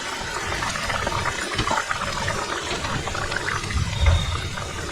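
Pabda fish curry gravy boils in a pan with a steady bubbling, watery simmer, close and continuous with no talk.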